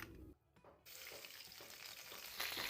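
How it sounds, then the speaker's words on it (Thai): Coarse red curry paste fries in hot oil, a soft continuous sizzle with a brief dip, stirred over a charcoal stove; faint and steady with no voices. "ผัดกับน้ำมันให้ส่งกลิ่นหอมดีซะก่อน"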